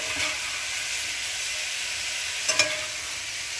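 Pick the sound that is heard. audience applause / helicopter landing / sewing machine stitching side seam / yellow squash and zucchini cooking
yellow squash and zucchini cooking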